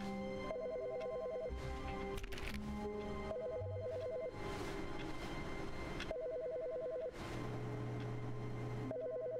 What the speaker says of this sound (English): It's someone else's phone. Ah, can you answer their phone?